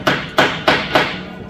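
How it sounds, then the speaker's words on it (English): Four sharp hammer strikes land on a steam boiler staybolt during inspection, evenly spaced blows with a short metallic ring decaying after each, close and loud with no speech. "So all you gotta do is pull the cap off, hammer it, and you should be able to hear"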